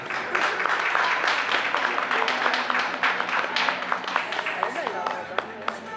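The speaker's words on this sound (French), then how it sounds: "qui est suivi de la belle Audrey, qu'on peut applaudir bien fort" An audience at a fashion show applauds steadily throughout, the dense clapping running beneath an announcer speaking over a sound system.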